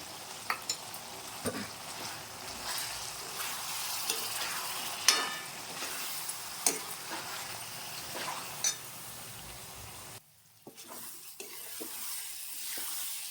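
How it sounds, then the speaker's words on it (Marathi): A paste of ginger, garlic, onion, coconut and sesame sautéing in a pan for mixed vegetable curry, a steady hiss with periodic spatula scrapes and light clinks, briefly dipping quieter near the end, no voices. "हे वाटण पण यात मिक्स करायचं आहे आणि ते पण व्यवस्थित परतून घ्यायचं आहे"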